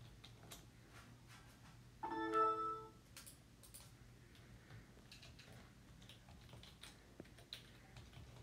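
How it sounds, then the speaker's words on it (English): Someone types a password on a computer keyboard, a quiet run of light key clicks over a faint hum, with a short tonal chime partway through. "Now let's type in my password and then let's get started."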